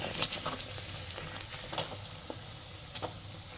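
Puris frying on a medium gas flame give a soft, steady sizzle with a few brief crackles and stirring sounds, close by and with no talking.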